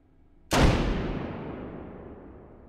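A single sharp, loud report from a 20 mm gun firing a dummy round in the VR game Hot Dogs Horseshoes & Hand Grenades, followed by a long decaying rumble and echo.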